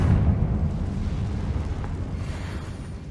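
A Confringo spell explosion in the Hogwarts Legacy video game bursts with a heavy, close rumbling boom that rolls and slowly fades over about three seconds.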